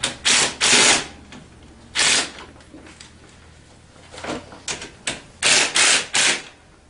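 A ratchet tightens the handlebar clamp bolts on a Tao Tao ATA 150B ATV. Close, loud bursts of rapid clicking come in short groups separated by pauses.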